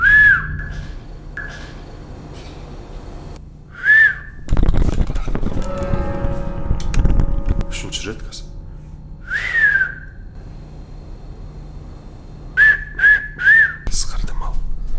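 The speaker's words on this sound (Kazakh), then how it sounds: "3 рет ысқырайық, соң күтейік, көрейік не." A person whistles a series of short, clear, fairly loud tonal whistles indoors at night, meant to summon spirits, with a pause mid-way filled by rustling and handling noise before more quick whistles.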